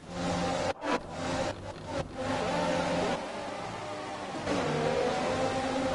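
A Formula 1 car engine in the F1 2020 racing game at the Netherlands Grand Prix drones loudly and steadily, its pitch shifting with revs and dipping briefly before rising again, with no speech over it.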